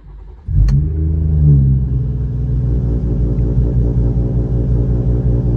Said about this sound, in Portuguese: Eu achei que era um Gol Turbo, só pra você ter ideia do jeito que ele apareceu aqui atrás